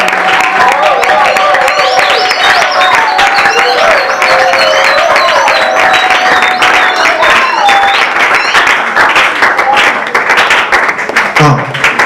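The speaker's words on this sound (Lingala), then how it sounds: "Déclenche Maboko, acclamons Jésus, poussons le cri de joie." Church congregation clapping and cheering during a sermon, with loud sustained applause and rhythmic hand claps under a mass of raised, joyful voices and whoops that continues throughout.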